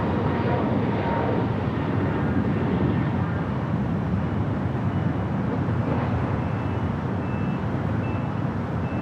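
An airliner takes off from LAX bound for Frankfurt, its broad, steady jet roar rumbling continuously from a distance and holding at an even level with no voices.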